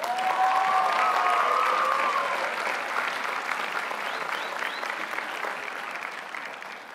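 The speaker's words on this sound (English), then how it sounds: "I'm going to pause so you can applaud." A graduation ceremony crowd applauds and cheers, starting loud with a few whoops and whistles early on, then settling into steady, slowly fading clapping.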